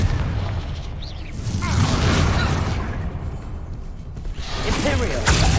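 Confringo blasting spell exploding in a video game, heavy booms and swooshing bursts rolling over rumbling background effects, with a voice talking over the action.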